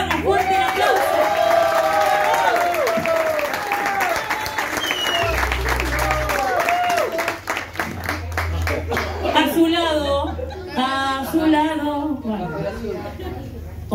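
An audience at a café concert applauds a guitarist, with a burst of clapping and crowd noise over loud speech and music.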